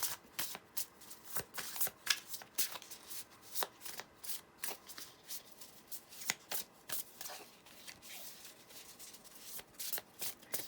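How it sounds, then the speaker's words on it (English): Tarot cards shuffled by hand at close range, a steady series of soft, crisp riffling flicks and slaps repeating throughout, quiet and unaccompanied by talk. "The art of shuffling on camera."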